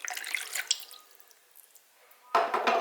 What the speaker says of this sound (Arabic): راح نحط كاس تاع الماء